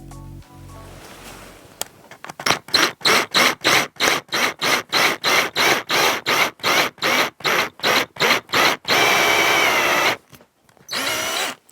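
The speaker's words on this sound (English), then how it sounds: "now we're going to take and drill our center" Power drill boring into the center of a small wooden block, a long run of rapid on-off bursts of whining motor, then a steadier sustained drilling stretch and a brief final burst, close and loud with no talking.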